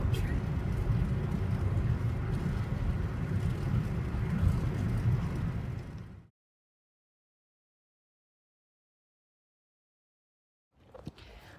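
A car drives along the road toward Disney World, with a steady, fairly loud rumble of road and engine noise heard from inside. The sound cuts to silence partway through, and faint sound returns at the very end.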